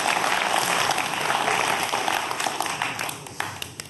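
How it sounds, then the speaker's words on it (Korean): A lecture audience claps to reward people who answered a question, a dense burst of applause that gradually thins out into scattered, fading claps. "대답하는 사람들 위해서 큰 박수 한번 쳐주세요"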